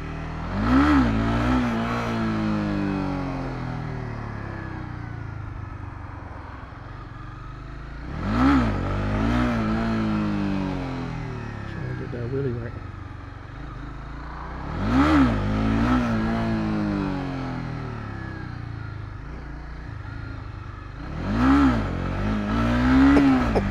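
Motorcycle engine revving in sharp blips during rev-matched downshifts, four distinct rising-and-falling bursts spaced several seconds apart over a steady running engine drone, close and loud.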